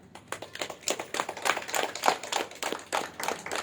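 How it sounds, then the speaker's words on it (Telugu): An audience applauding after a guided meditation session, a dense run of steady handclaps of moderate loudness lasting a few seconds with no talking over it. "మెల్లిగా కళ్ళు తెరుస్తూ ధ్యానానికి గట్టిగా చప్పట్లు కొడదాం"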